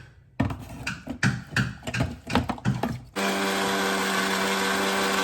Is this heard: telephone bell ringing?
no